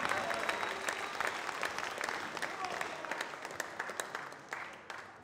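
Applause and cheering from a crowd at a catch wrestling championship match, steady dense clapping with a voice calling out over it, fading near the end.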